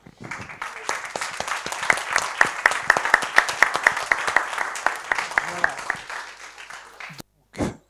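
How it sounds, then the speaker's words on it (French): An audience applauds with steady, energetic clapping for several seconds before it dies away. "vous méritez tous les deux un applaudissement"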